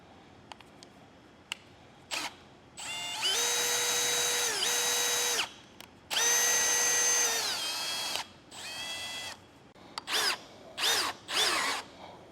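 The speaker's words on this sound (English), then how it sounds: "And then we're going to install our screw." A power drill with a T20 bit drives a screw into a bunk board end cap, whirring in several bursts of a few seconds each, then shorter pulses as the screw seats; close and loud, with no talking.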